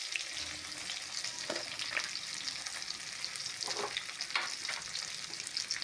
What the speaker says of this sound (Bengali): আলু লাল লাল করে ভেজে নেওয়ার পরে মা টমেটো দিয়ে দিচ্ছে।